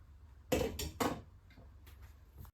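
A pot set down on a stove while making shchi soup in a village kitchen, giving two or three close, sharp metallic clunks and scrapes in otherwise quiet surroundings.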